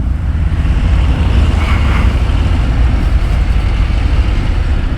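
A 2023 Harley-Davidson Breakout motorcycle engine runs loud and close, a deep steady rumble with a slight swell partway through as the ride begins, with no talking.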